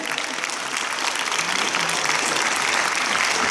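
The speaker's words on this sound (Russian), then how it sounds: "Во, аплодируем." Audience at a film premiere applauding steadily, a dense, even wash of clapping from a crowd that continues without a break for a few seconds.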